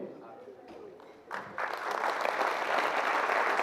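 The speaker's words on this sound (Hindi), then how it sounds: "जोरदार तालियों के साथ अभिनंदन" An audience applauds at a National School of Drama event while a senior theatre and television director is called to the stage. The crowd starts quietly and then swells into loud, sustained clapping after about a second and a half.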